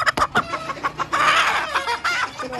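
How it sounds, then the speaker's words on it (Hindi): A rooster in a farmyard coop gives a quick run of sharp, close clucks, then a longer, louder squawking call, heard on its own with no talk. "बस ये मुर्गा आ गया।"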